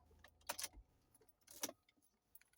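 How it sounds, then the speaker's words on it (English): A car's engine is switched off and keys jangle in two short bursts, close and fairly quiet, with small clicks and handling noises in between. "And shut the car off."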